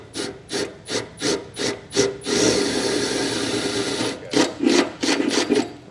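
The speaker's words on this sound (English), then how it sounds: "So I've got the holes drilled to size." A drill bores holes in a trailer base rail during a B and W custom installation kit fit-up. Repeated loud, close grinding pulses are broken by one longer continuous run in the middle.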